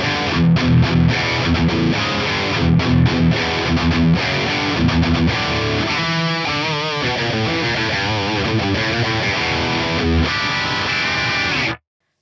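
Heavily distorted, high-gain electric guitar played through a Fractal Bogner Uberschall amp model, loud and continuous with chunky chugging riffs and sustained chords, then stopping abruptly near the end.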